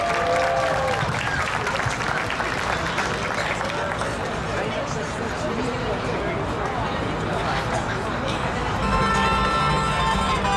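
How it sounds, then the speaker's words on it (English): Sustained audience applause and cheering after a hula performance by a halau, a dense steady wash of clapping with crowd voices mixed in, swelling slightly near the end. "Give them a big round of applause."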